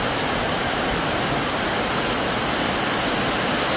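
Heavy rain pours down steadily during a storm in Jabalí, a dense, loud, unbroken roar of falling water with no pauses or voices.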